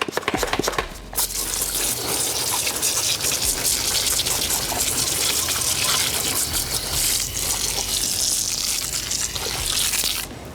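A pressure sprayer blasts water in a loud, continuous hiss while washing a Polaris RZR, close up and steady for about nine seconds after a brief start.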